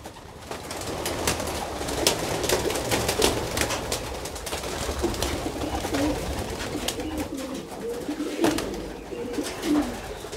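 A flock of racing pigeons being released for a training flight near Tan-Tan: steady cooing and soft calls fill the air close by, with occasional wing flutters, light rustling and outdoor background noise.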